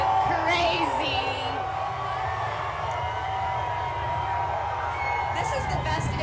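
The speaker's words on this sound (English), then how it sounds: "Oh, the crowd is going crazy." A huge outdoor crowd at the OKC Thunder NBA championship victory parade cheers and shouts in a continuous distant roar, with whistles and nearer voices talking over it.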